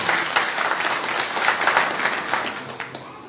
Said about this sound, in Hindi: जरा जोड़ गा करके ताली बजाओ।